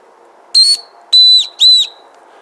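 A small whistle built into an EDC zipper pull gives three sharp, shrill blasts, one short then two longer, loud and close with silence in between.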